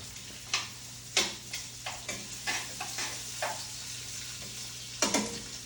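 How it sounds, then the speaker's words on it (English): Peppers and onions sauté in a pan, a soft sizzle broken by a series of sharp scraping and tapping stir strokes at irregular intervals, close and fairly quiet. "peppers and onions are in the pan"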